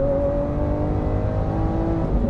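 A Lamborghini Aventador S with its V12 engine accelerating, a loud, steady, sustained engine drone with rising harmonic tones and no speech over it.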